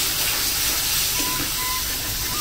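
Minced chicken paste sautéing in a pan for chicken kochuri, giving a steady broadband hiss and sizzle throughout with no talk.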